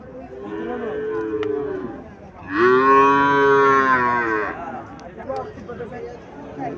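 A Sahiwal bull calf and other cattle at a village cattle market in Cumilla give loud, drawn-out moos, one short and one long, nearby, with people talking in the background.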